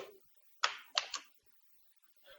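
A few quick, close keystrokes on a computer keyboard come in a short cluster, with a single faint tap after a pause and quiet in between.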